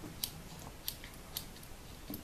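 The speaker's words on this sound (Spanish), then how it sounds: "Las tijeras," Snips from the small spring-loaded scissors on a Victorinox Handyman pocket knife, four or five short, crisp cuts spaced unevenly, close and fairly quiet.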